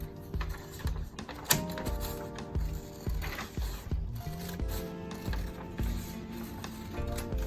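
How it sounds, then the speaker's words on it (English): Scissors snip through a strip of paper folded in half, cutting two layers at once: a close series of crisp, irregular clicks and snips with soft rustles between them. "Now we're gonna cut out each of these strips so that we have 4 long strips."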